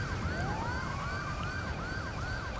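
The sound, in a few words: ambulance sirens arriving, GTA 5 video game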